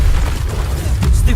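Incendio fire spell cast in Hogwarts Legacy, a single loud, close burst with a deep booming whoosh lasting about a second.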